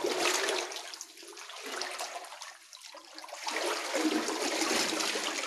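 Water rushing and trickling through a flooded multi-level cellar system in Eger, a continuous hollow flow that dips briefly in the middle and then swells again.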